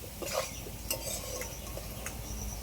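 A metal spatula scrapes and taps through nearly cooked potatoes frying in a pan, a few sharp clinks over a soft steady sizzle, close and moderately loud with no talking.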